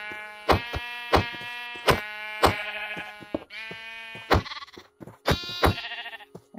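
Minecraft sheep bleat repeatedly while being punched, each harmonic bleat paired with a sharp hit click in a steady rhythm, loud and close with no talking over them.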